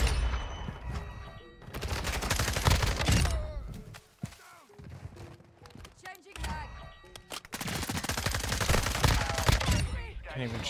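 Bursts of rapid submachine gun fire from the FSS Hurricane in a Call of Duty Modern Warfare match, two long loud volleys separated by quieter shots and thuds, with a player talking over the game audio.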